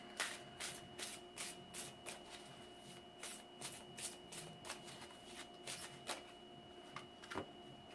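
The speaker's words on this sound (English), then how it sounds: "So let me just continue shuffling." Tarot cards are shuffled by hand during a reading, a quiet, close series of crisp riffling bursts in an uneven rhythm with brief pauses between them.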